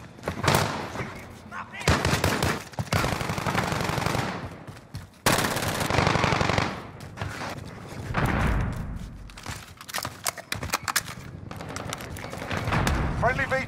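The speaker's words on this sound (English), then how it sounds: "They're shooting at me." Rapid automatic gunfire and bursts of shots fill a Call of Duty Modern Warfare multiplayer firefight, loud and close, with brief pauses between volleys while a player talks over it.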